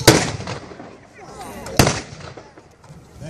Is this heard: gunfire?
yes